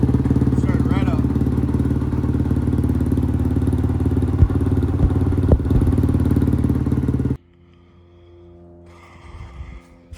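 A Kove 450 Rally race bike from the Baja 500 runs after starting, its steady engine drone filling the space close by, with a few knocks and clatter, before it cuts off into near quiet with faint movement.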